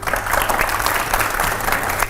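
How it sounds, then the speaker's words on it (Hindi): Steady audience applause at a live televised spiritual talk, dense even clapping from a large crowd throughout, with no pause or break. "मैं जानती हूँ ये तालियां यहाँ रुकेंगी नहीं"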